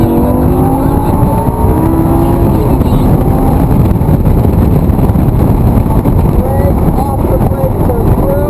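A Lamborghini LP560-4 on a driving experience track at full throttle, its engine roaring loud and steady from inside the cabin, rising in pitch under heavy wind buffeting.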